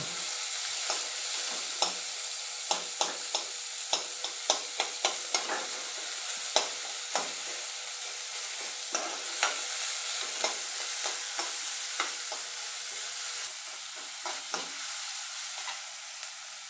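Pumpkin filling for masala dosa being sautéed in a pan: a soft continuous sizzle with frequent sharp scrapes and taps of a spatula against the pan at an irregular rhythm, close by, with no talking.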